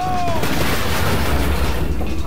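Dynamite blowing up in the Bully video game: a loud, close, sustained roar of blast noise with a deep rumble running the whole way through, and a brief falling whistle at the very start.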